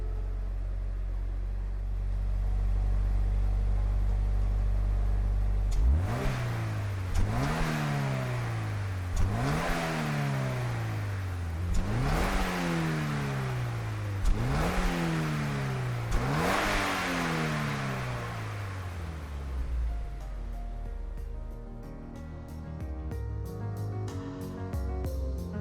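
In Gran Turismo 7, a Mazda CX-30 X Smart Edition engine accelerates hard through about five upshifts, each rev climbing then dropping in a rhythmic sawtooth pattern, loud and alone with no talk.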